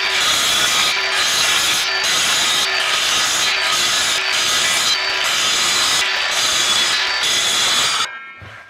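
Hand sawing through a wooden board for a wood duck nesting box, with steady back-and-forth strokes in a brisk, regular rhythm, loud and close, ending abruptly as the cut finishes.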